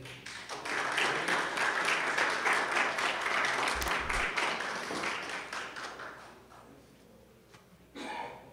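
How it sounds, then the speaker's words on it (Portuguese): Audience applause welcoming Dr. Cid Carvalhaes at a talk on public and private health policy: dense, steady clapping from many hands that runs loud for several seconds, then thins and fades, with a brief burst near the end. "Vamos receber o Dr. Cid Carvalhais com uma palmas"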